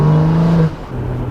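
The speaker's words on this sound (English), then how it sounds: "That turbo noise." A valved BMW 335i heard from inside the car, a loud steady engine drone with a strong tonal whine that drops away partway through as the throttle eases, leaving a lower rumble.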